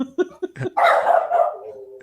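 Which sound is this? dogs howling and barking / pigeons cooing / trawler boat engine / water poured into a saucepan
dogs howling and barking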